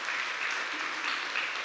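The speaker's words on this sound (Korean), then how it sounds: "인사하시면 박수 한번 하도록 하겠습니다" Brief, fairly faint burst of applause from a church congregation during a Sunday worship service, a soft even wash of clapping.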